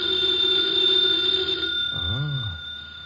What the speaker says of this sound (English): Should never ignore a phone call.